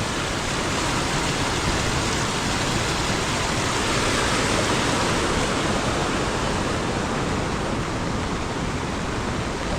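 Strong, fast-flowing water rushes during heavy monsoon rain in a Marathi village, a dense, continuous roar that stays loud and unbroken throughout.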